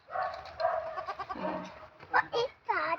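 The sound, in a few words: goat bleating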